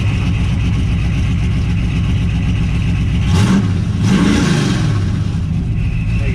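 A 1977 Camaro Z28 with a Procharger and its exhaust dumps open, idling with a deep, loud lumpy rumble, then two sharp revs blipping up and falling back near the middle.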